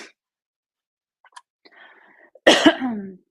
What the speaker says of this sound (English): As I cough, so sorry.